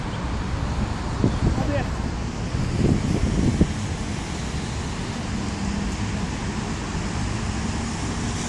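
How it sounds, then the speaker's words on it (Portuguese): Strong wind buffets the microphone outdoors at a boomerang-throwing session, a constant loud rumble with a few gusty bursts and someone speaking over it. "O vento está bem forte, está levando ele lá para trás."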